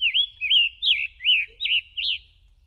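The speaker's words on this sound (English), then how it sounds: "And then I want to play the song of the scarlet tanager." Scarlet tanager song: a clear, close series of six hoarse, burry warbled phrases in a steady rhythm, sung alone against a quiet background over almost three seconds.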